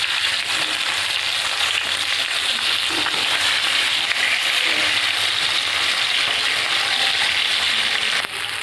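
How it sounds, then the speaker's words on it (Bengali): Steady loud sizzling of fish frying in hot oil in a wok, a continuous crackling hiss with occasional pops, close up and without talk. "এবার আমি মাছটা ভেজে নেব।"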